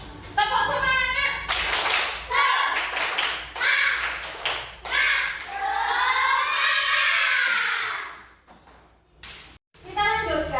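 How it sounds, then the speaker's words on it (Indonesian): A group performs the 'tepuk semangat' spirit clap, loud patterned bursts of rhythmic hand claps with voices chanting along, pausing briefly before another round starts. "Tepuk semangat"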